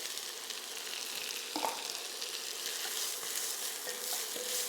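Garlic and onion fry in olive oil in an enameled cast iron pan with a steady, close sizzle, joined by a few brief stirring scrapes.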